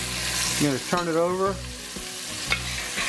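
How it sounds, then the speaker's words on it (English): Beef browns in a hot pot for a stew, sizzling and frying steadily and fairly loud throughout, while a person speaks over it. "It's starting to brown now. You can hear it sizzling."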